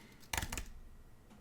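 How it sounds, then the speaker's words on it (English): A brief cluster of keystrokes on an Apple wireless keyboard, a few crisp clicks in quick succession followed by quiet, close and fairly soft. "So this is just like an Apple wireless whatever keyboard."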